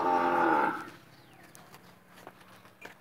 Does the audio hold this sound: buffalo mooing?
yes